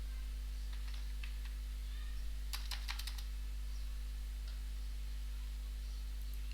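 Several quick keystrokes on a computer keyboard click in a short burst over a steady electrical hum, faint and close, then the room falls back to quiet hum.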